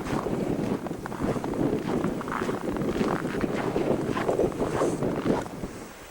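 Wind blowing steadily through the 1993 blizzard in Pittsford, New York, at around 10 degrees, a continuous rough roar with gusty swells and buffeting on the microphone, no voices.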